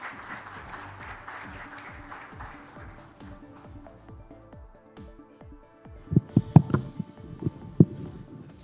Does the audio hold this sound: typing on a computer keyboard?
no